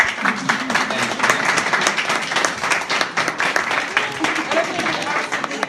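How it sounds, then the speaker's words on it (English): A school audience breaks into a sustained round of applause at a teacher-of-the-year gathering, dense steady clapping filling the room for several seconds with no pause. "I think we really need to give them a round of applause."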